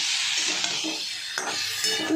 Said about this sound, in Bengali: ফোড়নে দিয়ে আলু কুমড়ো একটু ভেজে নিলাম, সঙ্গে সয়াবিন দিয়ে দিলাম